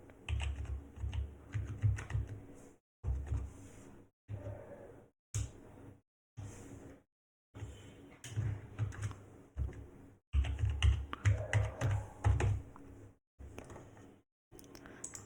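Someone typing a password on a computer keyboard during a Red Hat Enterprise Linux install, quiet close key clatter in short bursts separated by brief pauses.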